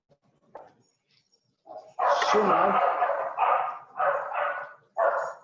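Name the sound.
dog barking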